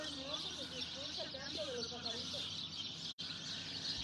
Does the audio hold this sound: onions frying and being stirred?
no